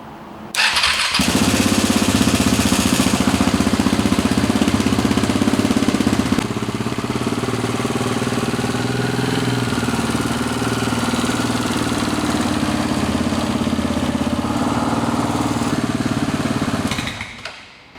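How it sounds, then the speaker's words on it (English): A KTM motorcycle engine, just after engine work, cranks and starts up loudly for the first time, then settles into a steady, rumbling idle for a long stretch before cutting off near the end. "you start up a bike that's had engine work for the first time"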